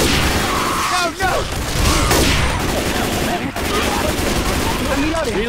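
Gunfire in the Left 4 Dead Cold Stream campaign on Expert difficulty: continuous bursts of weapon fire and explosive booms, loud and chaotic, with players shouting over the shooting.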